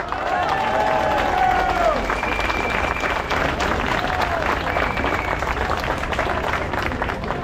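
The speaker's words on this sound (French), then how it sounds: "Je vous prie d'applaudir Ouba" An outdoor crowd at a street protest in Paris claps and cheers, a broad sustained wash of applause with voices and whistles rising over it.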